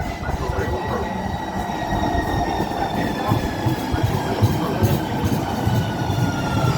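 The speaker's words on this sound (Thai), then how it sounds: "Caution, Metro Rail approaching." A Houston Metro Rail light-rail train approaches a station with a loud, continuous rolling rumble, high squealing wheel tones drawn out above it and faint clicking of the rails.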